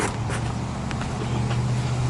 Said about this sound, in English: got dual exhaust put on the dually or the Chevy today. Sounds killer.